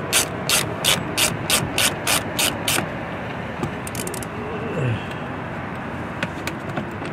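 Hand ratchet backing out factory screws on a 2024 Chevrolet Suburban, a quick series of about ten crisp clicks, then quieter mechanical movement and faint talk.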